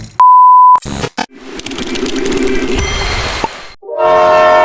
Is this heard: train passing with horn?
yes